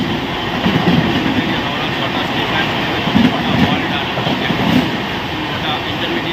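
Steady rumble and clatter of the Puri–Howrah Shatabdi Express, an eight-coach train, heard while it runs, with a continuous loud roar and faint rhythmic clicks of the wheels and no talking.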